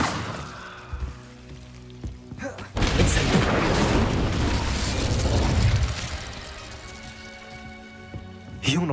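An Incendio fire spell is cast in Hogwarts Legacy: after sparse clicks and a spoken line, a sudden loud whooshing burst of flame roars for about three seconds, then fades back to quieter game ambience.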